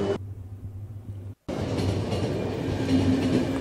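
A train rolls along in the post-apocalyptic game The Final Station, a steady rumbling clatter that cuts out briefly and then resumes louder and fuller, with no voices.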